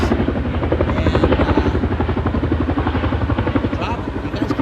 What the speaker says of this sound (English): Water dropping helicopters